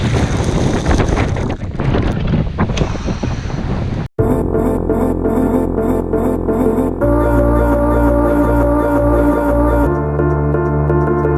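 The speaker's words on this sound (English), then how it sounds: "show you guys what's happening with the wind in this place right now" Heavy Cape Town wind batters a GoPro Hero 5 microphone, a loud, continuous rumble and buffeting roar that cuts off abruptly midway, then gives way to steady droning hum with tonal patterns.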